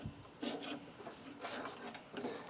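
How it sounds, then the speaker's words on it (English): Craftsman gasket scraper rasping old gasket material off a lawn mower carburetor mating surface, quiet close scraping strokes repeating steadily in a back-and-forth rhythm. "I use a Craftsman gasket scraper."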